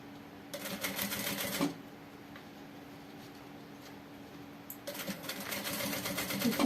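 A sewing machine stitches a backpack in two fast, steady bursts, near and clear, with a quieter pause of handling noise between them and no talk over the motor.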